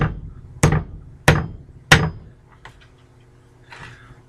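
Three sharp hammer whacks, evenly spaced about two-thirds of a second apart, strike a steel go-devil splitting maul as its handle is driven on, each ringing briefly before fading into a quiet room.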